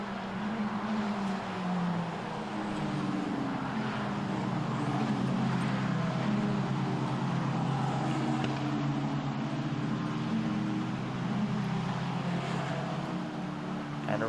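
F4 single-seater race cars lapping the Brno circuit in the Czech Republic during an ESET Cup championship race, their engines a continuous steady drone with shifting tonal whine throughout, heard without voices.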